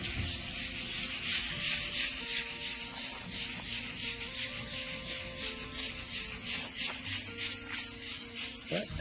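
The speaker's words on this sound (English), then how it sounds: "Sand door, wet sand," Steady rhythmic wet sanding of a car door by hand, a continuous hissy scrubbing that rises and falls with each circular stroke, close up and without speech.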